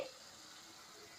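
Tomato puree added to green chili and onion paste frying in a pan, giving a steady, close hiss of sizzling that holds evenly for the whole short stretch, with no talking.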